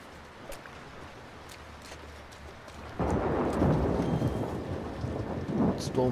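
Steady rain pours throughout a thunderstorm in The Last of Us Part 2, then a heavy, rumbling roll of thunder swells up at about the halfway point and keeps growling loudly under the downpour to the end.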